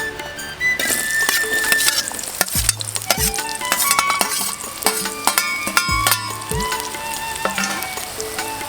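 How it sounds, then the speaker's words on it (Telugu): Onions frying in hot oil for a Telangana-style bottle gourd and mutton curry, stirred with a metal spoon: a steady loud sizzle with repeated scraping and clinking strokes against the pan, no voices. "నూనె గరమైనాక ఉల్లిగడ్డలు వేసుకోవాలి"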